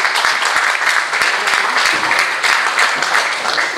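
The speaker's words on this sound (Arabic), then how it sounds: "تصفيق على الدكتور؟" Steady, close applause from an audience at a Tunisian comedy show, a continuous wash of many hands clapping without a break.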